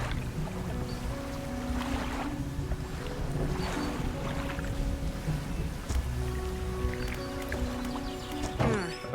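A boat engine chugs at a low, steady level in the fishing video game Dredge, with soft water and wind ambience around it and a brief splash near the end.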